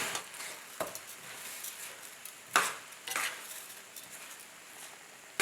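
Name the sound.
stirring paella rice in pan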